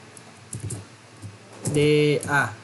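Code is typed on a computer keyboard: scattered light keystrokes, then a voice speaks briefly close by.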